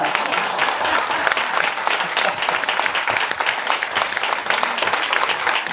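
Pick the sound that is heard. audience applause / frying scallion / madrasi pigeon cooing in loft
audience applause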